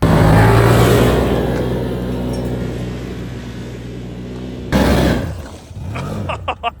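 Side-by-side off-road vehicle on Boggers tires with rear tires not aired up, its engine running loud and close with a steady rumble, then a sudden shift and revving toward the end.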